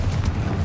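A Confringo fire-blast spell from Hogwarts Legacy erupts as a short, loud, dense boom with a rumbling low body, alone and close, lasting under a second.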